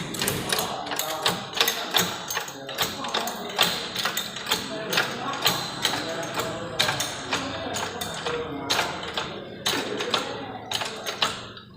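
Repeated ratcheting clicks and metallic taps as a jack lifts a Toyota/Daihatsu Xenia car in a workshop before front brake service, steady rhythmic strokes fairly close, with faint talk in the background.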